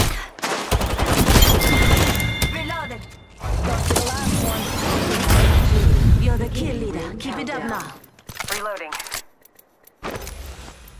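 Rapid bursts of Apex Legends gunfire crack through a firefight, with dense volleys, brief pauses and sharp mechanical clatter, loud and close, while a voice speaks over the shooting.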